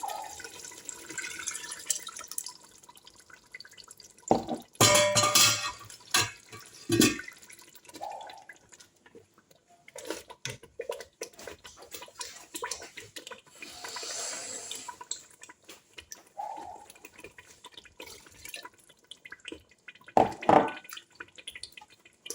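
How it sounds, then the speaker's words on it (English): Meat stock poured into a beef tomato stew in a pot: intermittent liquid splashes and drips with a few sharper bursts, close and moderately quiet, no voices. "So I'm going to be pouring in my meat stock."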